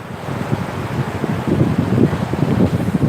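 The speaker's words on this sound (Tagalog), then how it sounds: "lakas tuloy ng alon, no? Nagagalit yung alon." Strong ocean waves surge and rumble in a continuous roar mixed with wind buffeting the microphone, loud and close along the shore.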